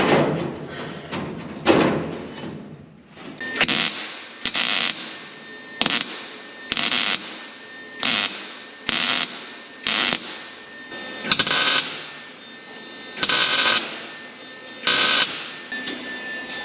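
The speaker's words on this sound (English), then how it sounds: "Just gonna weld that into place." Sheet metal floor pieces are tack welded into place on a custom 1930 Dodge truck, in a series of short, sharp crackling bursts broken by brief pauses, close and fairly loud.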